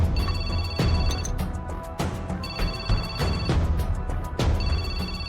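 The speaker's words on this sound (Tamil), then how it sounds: "அண்ணன் தாங்க போன் அடிக்கிறாவ" Telephone ringing with an incoming call, a loud repeating electronic ring in steady bursts about every one to one and a half seconds, heard alone with no talk.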